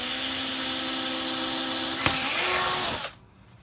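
A power drill whines steadily as it bores holes in a UJK Parf workbench top, with a short bump in pitch near the end before the motor cuts off and leaves near silence.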